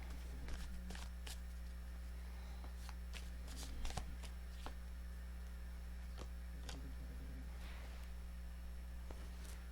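Tarot cards shuffled by hand in two passes, giving soft riffling and slapping bursts over a steady low electrical hum, fairly quiet and close.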